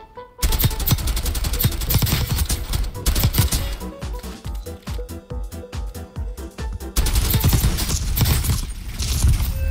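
Dense, continuous rapid gunfire in the Warzone video game, loud and near, with rattling mechanical clatter through most of ten seconds and no speech heard.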